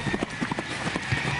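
A horse's hooves clip-clop at a steady walking rhythm on a hard surface, fairly close and moderately loud, with some faint background voice.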